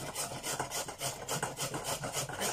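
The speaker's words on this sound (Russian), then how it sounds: "Сейчас морковку чищу. Ой, натираю." Carrots being grated by hand, a rapid rhythmic rasping scrape repeating several times a second, close and moderately loud, no talking.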